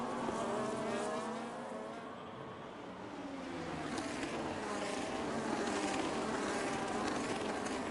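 Engine note of Formula 1 race cars in a multiplayer racing video game, a high, buzzy whine resembling F2 cars, continuous and loud throughout with a slight dip then rising again as the cars push on.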